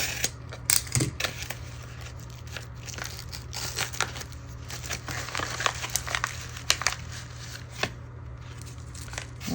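Scissors and crinkling packaging as a parcel is cut open: irregular close snips and rustles, with sharp clicks scattered across a quiet background hum; no voices.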